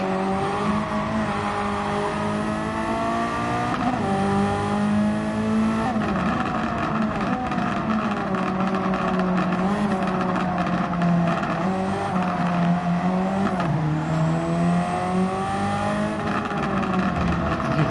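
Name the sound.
race car engine revving in the video game Gran Turismo 7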